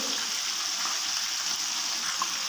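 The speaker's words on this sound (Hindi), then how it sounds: "तो ये इंशाल्लाह हमारे अंदर तक फ्राई हो जाएंगे" KFC-style coated chicken pieces deep-frying in hot oil give a steady, even hiss and crackle, close and constant, with no talk over it.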